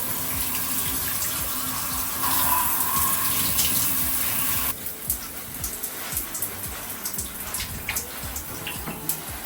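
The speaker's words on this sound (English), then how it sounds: "I just wash out my hair" Tap water runs steadily while hair is rinsed after shampooing, a continuous hiss that shifts in tone partway through, with occasional splashes and drips as the stream hits hair and skin nearby.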